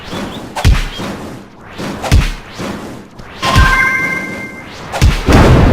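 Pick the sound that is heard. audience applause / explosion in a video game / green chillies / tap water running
explosion in a video game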